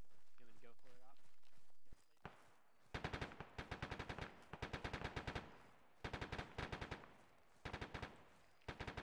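Automatic rifle suppressing fire in a multiplayer military shooter: rapid, loud bursts of closely spaced shots in several long strings, with short pauses between them, after a brief spoken exchange at the start.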